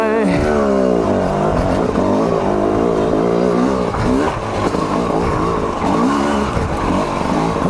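A TM EN 300 two-stroke dirt bike revs hard on a wet trail, its engine rising and falling in rapid throttle blips, loud and close throughout.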